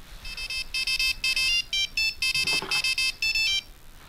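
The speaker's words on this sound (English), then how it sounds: "Right at the moment, I'm ignoring this phone." A telephone rings indoors with bright electronic ringtone bursts in quick repeated pulses, loud and close, running for about four seconds with no one talking.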